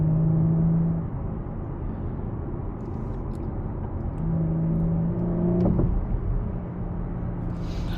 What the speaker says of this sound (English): We're gonna jump on the highway here, downshift it